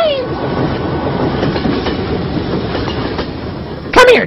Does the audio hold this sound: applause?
no